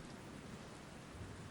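Steady rain falls through a city alley at night, an even, soft hiss of drops on surfaces with no voices, holding at a constant low level for the whole short stretch.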